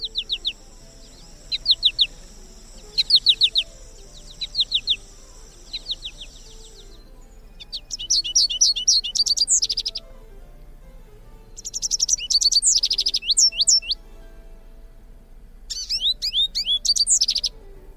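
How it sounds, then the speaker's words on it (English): American goldfinch singing in bursts of bright, rapid twittering and warbled phrases, repeated four or five times with short pauses between, clear and close over a quiet background. "The American goldfinch is a favorite of many for its beautiful colors, its bounding flight pattern, and the sweetness of its song, like this."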